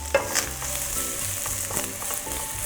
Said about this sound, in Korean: 채 썰어놓은 양파를 볶아주시면 되는데 불은 중약불로 줄여주시는 게 좋아요.